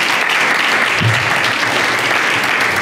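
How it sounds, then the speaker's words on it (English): Dense, steady applause from a studio audience, loud and continuous throughout with no voices standing out. "Let's give Eugene a round of applause"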